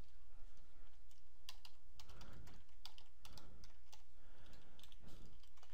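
Quick, quiet keystrokes clatter on a computer keyboard in irregular bursts as a backup file name is typed, with no voices heard.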